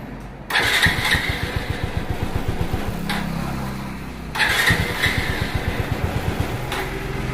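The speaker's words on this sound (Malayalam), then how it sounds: "ഇനി നമ്മൾ വണ്ടി ഒന്ന് സ്റ്റാർട്ട് ചെയ്ത് കാണിച്ചു തരാം." A motorcycle with a freshly repaired starter clutch is started twice: each time a sharp crank catches into a fast, steady engine thump that is loud and close, with a brief lull between the two starts.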